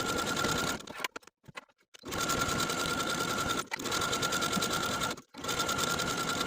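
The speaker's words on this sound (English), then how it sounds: "I'm just going to edge stitch close to that inner fold, starting from my outer seam all the way to the tip of the tie" Sewing machine edge stitching close to the inner fold of a dress tie, a fast steady mechanical whirr in long runs broken by short pauses where the stitching stops and pivots.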